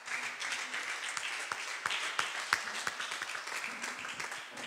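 A congregation applauding during a thanksgiving church service in Metz, a steady wash of many hands clapping at moderate distance, with a few sharper individual claps standing out.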